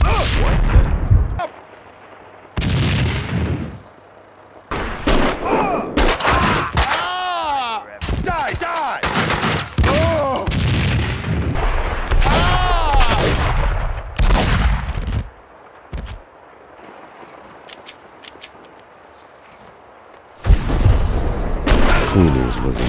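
Gunfire from the video game Max Payne 2 comes in repeated loud bursts and booming blasts, broken by short quiet gaps, with voices shouting and talking over the action.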